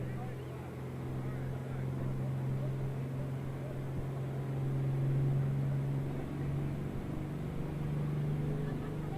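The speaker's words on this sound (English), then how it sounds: "here he comes, that El Nino tractor" The El Nino pulling tractor runs at a farm machinery show, its engine a steady, loud, low droning roar that holds throughout and swells slightly near the middle.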